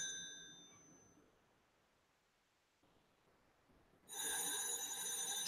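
A telephone rings in a quiet room. A short bell tone fades at the start, then a loud, sustained ring bursts in near the end.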